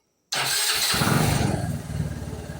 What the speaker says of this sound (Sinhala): මේ ස්ටාර්ට් කරද්දී මේකේ ඇත්තටම බලන්න සද්දේ